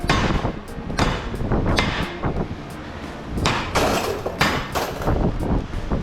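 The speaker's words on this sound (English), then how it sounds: "You don't need nothing but a hammer." Repeated hammer blows breaking apart a transformer salvaged from a commercial lighting fixture, loud metallic strikes and clanks arriving in irregular bursts close to the listener, with no voices.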